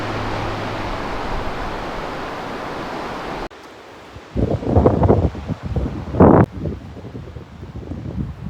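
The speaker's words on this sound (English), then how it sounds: "You think the wind blows very much here?" Wind buffets the microphone in a steady rush along the Oregon coast near Cannon Beach, then drops away into gusty bursts and rustling for the rest of the clip, with no talk.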